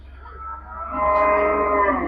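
A Gir cross cow moos once at the Melapalayam cattle market in Tirunelveli district, a single loud, close, drawn-out call that swells and holds.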